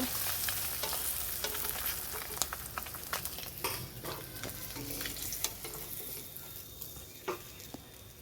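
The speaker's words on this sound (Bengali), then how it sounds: "তো এরকম করে বাকি মাছগুলো ভেজে নেব।" Rohu fish pieces fry in oil with a constant, close sizzle, punctuated by frequent sharp pops and scraping stirs against the pan.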